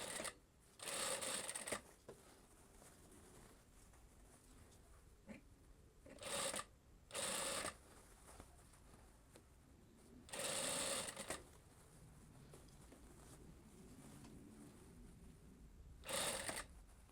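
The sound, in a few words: sewing machine stitching a blouse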